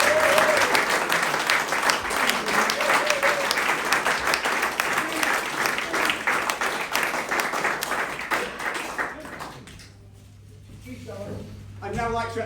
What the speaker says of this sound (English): So I'd like a big round of applause